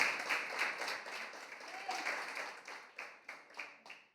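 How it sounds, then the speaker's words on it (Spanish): A church congregation clapping for the Lord during a Spanish-language sermon, with a rhythmic run of claps that grows more regular and pulsing toward the end, fairly close and fading slightly between bursts. "Denle un fuerte aplauso al Señor."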